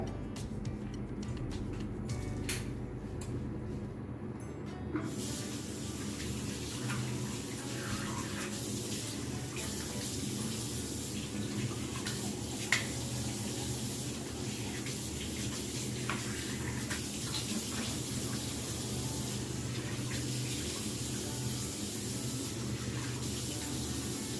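Tap water runs in a steady, continuous rush for over twenty seconds while someone washes their face, close and unbroken, with no speech.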